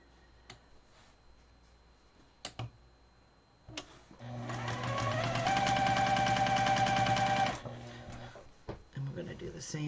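A sewing machine runs in one loud continuous burst of a few seconds, stitching quilt squares for coasters, with quiet handling clicks and rustles before and after.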